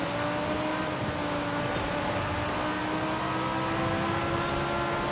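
A race car in Forza Horizon 5 is held at half throttle, making a steady, moderately loud engine drone with a faint whir of other cars around it and no talking.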